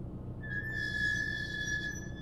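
Car brakes squeal in the road-trip video game Highway Blossoms: one sustained high-pitched screech of about a second and a half, loud and steady, over a low rumbling engine drone.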